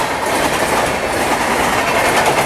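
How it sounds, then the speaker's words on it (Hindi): The Gandhinagar Capital to Mumbai Central Shatabdi Express rushes past on Indian Railways track, making a loud, steady roar of rolling wheels with rhythmic clickety-clack throughout. "ये निकली गांधीनगर कैपिटल से मुंबई सेंट्रल की शताब्दी एक्सप्रेस।"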